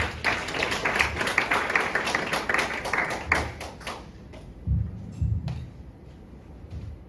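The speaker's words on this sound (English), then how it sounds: "Please welcome the Ambassador with a round of applause." An audience at a conference claps in a dense burst for several seconds, then the applause thins to a few scattered claps and fades out.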